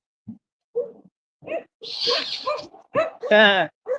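Puppy barking and whimpering close by, a few short yips building to longer, higher whining cries.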